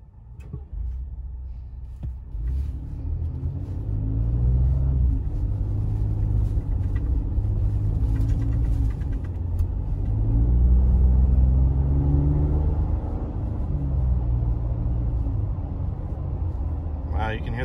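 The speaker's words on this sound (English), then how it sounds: "Wow, you can hear the turbos on that thing." A 2020 Ford Raptor's turbocharged engine with a 10-speed transmission pulls away from a stop, a loud, steady low rumble that rises in pitch through several surging sweeps, heard from inside the cab.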